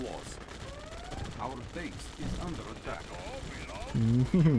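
Gunfire from the strategy game Yuri's Revenge crackles in scattered bursts beneath someone talking over it, with a louder cluster of shots near the end.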